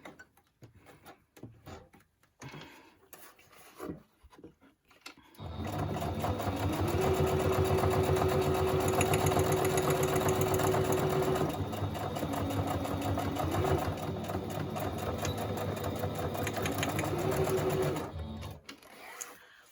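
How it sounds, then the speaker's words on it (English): After a few quiet handling clicks, a sewing machine runs fast and loud in a long steady whir, briefly slowing midway, then stops. "We are done with the sewing machine."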